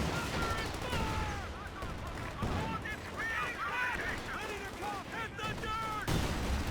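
Rifle gunfire in Company of Heroes 2 sounds as repeated dense cracks and bursts under a steady battle din, with voice-like sounds running through the whole stretch.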